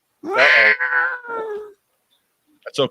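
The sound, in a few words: cat crying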